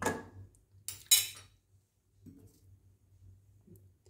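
Chopped coriander, mint and curry leaves are mixed by hand in a bowl, giving a few sharp utensil clinks and knocks early on, then soft, faint squishy handling sounds.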